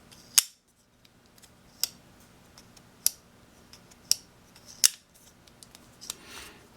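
Quiet, crisp clicks from a Spyderco Sage 2 folding knife as its blade is opened and closed, about six muted snaps spaced around a second apart against near silence.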